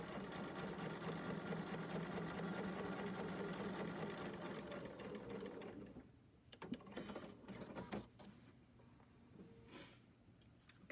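A sewing machine stitches fabric in a long, steady, buzzing run, then stops; a few soft handling knocks and rustles follow as the cloth is moved, quiet and close.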